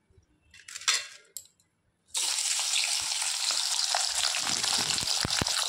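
Sliced bitter gourd and pointed gourd drop into hot oil in a kadai. Near-silence and faint clinks give way to a sudden loud, steady sizzle of frying, with scattered utensil taps over the rest.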